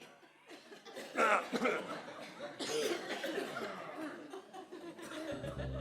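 During an interval in a concert hall, the audience fills the pause with scattered coughs, throat clearing and murmuring, a diffuse room full of small noises of moderate loudness.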